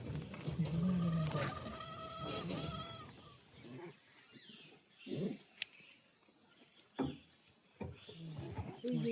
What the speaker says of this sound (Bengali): তাগড়া অ্যালার্ম কল আসছে.